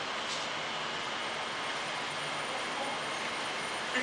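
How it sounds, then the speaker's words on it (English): Train approaching platform 4 at Stafford station, a non-stopping service: steady broadband rumble and rushing noise at a fairly loud, constant level, with no voices over it. "The train now approaching platform 4 does not stop here."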